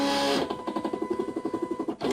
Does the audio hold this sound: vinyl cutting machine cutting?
yes